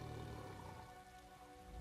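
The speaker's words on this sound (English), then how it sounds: "I could do without this damnable rain." Rain falls steadily in the video game The Elder Scrolls Online, a constant soft hiss and patter of drops forming a dense, even background wash.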